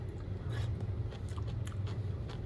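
Someone chews crunchy stir-fried celery with pork, giving close, soft crunching bites in an irregular rhythm over a low steady hum, with no talking.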